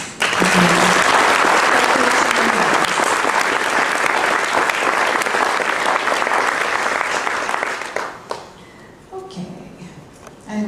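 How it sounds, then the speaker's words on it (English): A room full of people breaks into a long, loud round of applause, dense clapping that holds steady before thinning out to scattered claps at the end. "I would like you to give her a round of applause."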